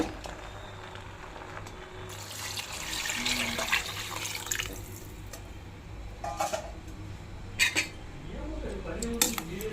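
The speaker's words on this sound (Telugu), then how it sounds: "గ్లాస్ వాటర్ పోసుకోవాలి." Water poured from a glass into a vessel of rice for Andhra natu kodi biryani, a few short splashing pours among kitchen clatter of utensils, close and moderately quiet.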